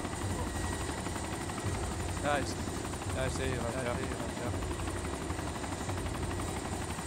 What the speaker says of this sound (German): Übrigens steht direkt vor uns stehen zwei Hubschrauber.